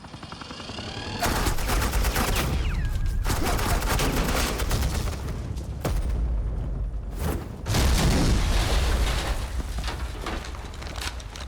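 Agents under Agent Quinn in Batman: The Enemy Within unleash loud, dense automatic gunfire, near and continuous with booming impacts, pausing briefly a few times before resuming at full volume.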